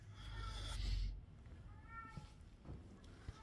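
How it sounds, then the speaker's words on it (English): A cat cries with a few drawn-out meows while its owner is away, faint and somewhat distant, under a low rumble of room noise, with no talking. "that's just the cat"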